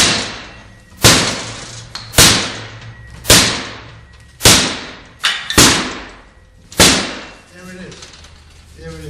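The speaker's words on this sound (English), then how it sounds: "So I'm going to come here and start banging away." Forcible entry tool hammering on an outward-opening door during training: six heavy, sharp metallic bangs spaced about a second apart, loud and close, with a faint voice underneath.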